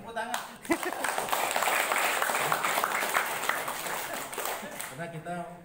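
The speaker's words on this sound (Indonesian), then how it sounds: "Tepuk tangan." A crowd gathered for an official visit to SMAN 2 Muarojambi school in Jambi gives a few seconds of fairly soft applause, with people talking just before and after the clapping.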